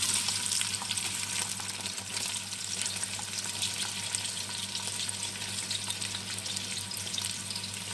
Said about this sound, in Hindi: अब इसमें हम थोड़ी सी प्याज फ्राई कर लेंगे।